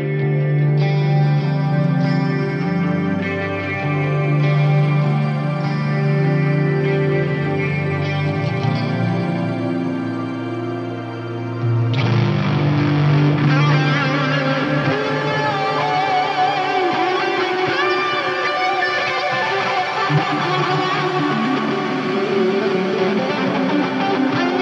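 Electric guitar chords through an FM9 with Ursa Major reverb and swirling modulation, shifting midway into a fuzz phaser for a fuzzier, more textured sustained passage; loud and continuous.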